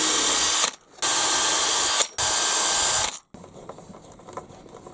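A small drill with a 1.5mm bit works into brittle plastic on a model excavator, giving steady high whining runs that stop twice in short gaps. The whine then drops to a faint, uneven hum.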